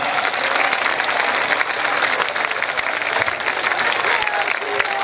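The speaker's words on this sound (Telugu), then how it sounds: "కాసేపు లేపు చప్పట్లు కొట్టలేరమ్మా?" An audience at a devotional Rama Katha discourse claps steadily and fairly loudly for several seconds, a dense, even wash of many hands with no gaps.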